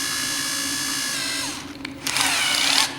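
Power drill whirring steadily as its chuck tightens onto a drill bit, the motor pitch dropping, then a brief louder whine at the end.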